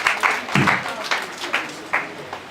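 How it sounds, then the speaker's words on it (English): Scattered applause at a graduation ceremony, a handful of distinct loud claps and short bursts spaced unevenly, sounding like a small group clapping near the microphone rather than a full crowd. "Please give her a sounding round of applause as she takes the mic to address us all"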